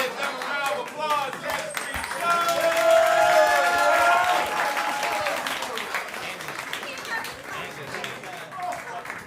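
An audience at a comedy roast battle event breaks into loud applause with some cheering, swelling in the middle and then tapering off into scattered claps and chatter.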